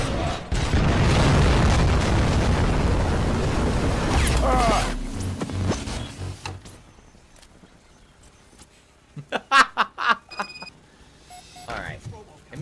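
An explosive barrel blows up in the RoboCop video game with a loud, sustained roaring blast that slowly dies away, followed by scattered thumps and game effects as someone talks.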